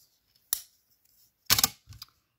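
Scissors snip through white paper while a Christmas card is trimmed to size, three crisp cuts with the last two close together, alone in a quiet room.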